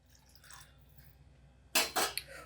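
After a quiet stretch, water splashes into a pot of eggplant and potato kara kuzhambu in a short burst of pouring, followed by a few drips.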